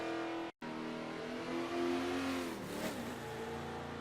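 A 1970 Buick GSX muscle car rated at 360 horsepower and 510 lb-ft of torque races around Road America in Forza Motorsport 7. Its engine roars steadily and loudly with shifting pitch, broken by one brief dropout near the start.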